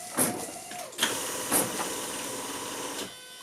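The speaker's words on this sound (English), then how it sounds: "So that's the sound of the throttle body and the fuel pump coming on" Jaguar V6 throttle body and fuel pump priming on ignition: a steady faint mechanical whir and hum with a few short clicks and ticks spaced about half a second apart, quiet and close.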